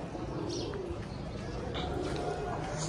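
Pet pigeons coo softly in a city home loft, producing faint, scattered calls over a steady background hiss.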